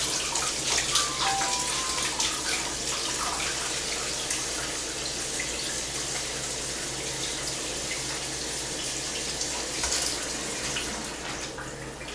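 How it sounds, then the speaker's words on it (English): Water runs steadily from a tap in a continuous rushing stream, close and fairly loud, with no one speaking. "And then I take a little bit of warm water."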